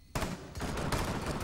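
Rapid gunfire in the video game Rainbow Six Siege, a dense burst of shots that begins abruptly and keeps going loud and close for the rest of the clip, with no talk over it.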